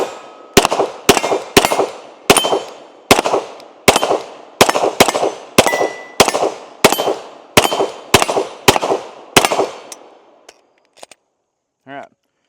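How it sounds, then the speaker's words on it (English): Rapid series of about fourteen sharp gunshots from a Glock 17L Gen 5 pistol, evenly spaced and loud, each followed by a brief ringing decay, then a few faint metallic clicks and handling noises at the end. "let's take a few more shots with it"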